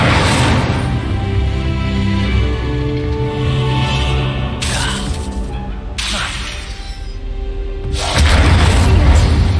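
Incendio fire spell cast in Hogwarts Legacy, loud booming whooshes and crackling blasts of flame in repeated bursts over rumbling game sound, with brief spoken lines.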